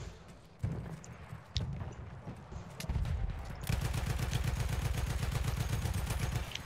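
Rapid automatic gunfire in the Battlefield 1 shooter: a few scattered shots first, then a sustained fast rattle of steady, loud, close bursts running to the end.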